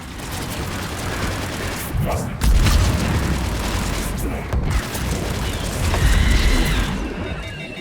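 Missile strikes detonate in Mass Effect 3, a couple of heavy booming blasts around a steady roar of battle noise and rumble, loud and close throughout.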